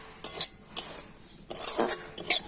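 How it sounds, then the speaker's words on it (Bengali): Semolina lightly fried in ghee and stirred in a pan, with close metallic spoon scrapes and clinks coming in short uneven strokes. "এখন আমি ঘিয়ের সাথে তার সুজিটা কিন্তু একটু হালকা করে ভেজে নেবো"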